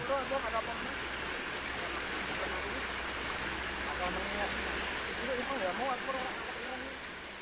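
Flash flood water rushing along the Plumbon Beringin river and sweeping vehicles away at night, a steady loud roar throughout with voices talking and shouting over it.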